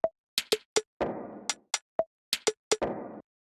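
Drum rack in an electronic production playing light percussion hits and little toms: a sparse, syncopated pattern of short clicky taps and pitched knocks, with two longer noisy swells, close and clear.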